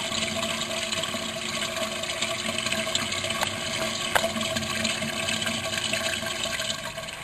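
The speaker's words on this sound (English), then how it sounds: "There goes the sump pump again." A basement sump pump runs steadily, pushing water through a drain line with a continuous watery rush and gurgle, fairly close and unbroken, with a few faint clicks and knocks over the flow.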